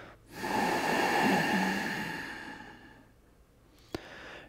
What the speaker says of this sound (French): mettez en place la respiration Ujjayi. Pour ça, il suffit simplement d'amener une légère contraction de la gorge à chacune de vos expirations